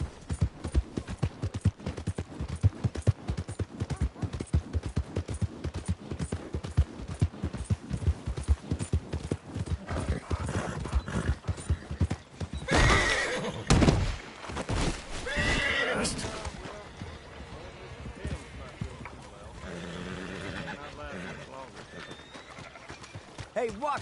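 In Red Dead Redemption 2, a horse gallops in a rapid, continuous clatter of hooves, with a loud whinny partway through and voices talking over the running.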